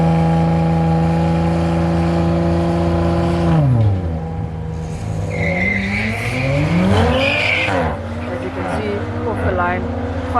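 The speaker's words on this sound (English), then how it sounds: "these cars launch incredibly strong" Race cars leave a standing start at a Killarney private racing event. Engines hold at high revs, then roar away with rising, overlapping pitch sweeps as they accelerate. Tyre squeal is heard against a steady loud engine drone.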